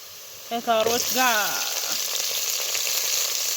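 Potatoes and carrots hit an iron pot and break into a loud, close frying sizzle that swells after a brief tonal squeal at the start, then holds as a steady hiss.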